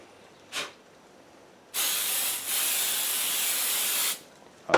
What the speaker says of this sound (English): And we can spray the activator